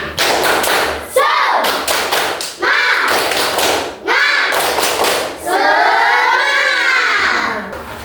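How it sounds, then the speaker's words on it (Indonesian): A school class doing a tepuk semangat spirit clap, many hands clapping loudly together in quick rhythmic bursts, with short pauses between the groups of claps. "Tepuk semangat."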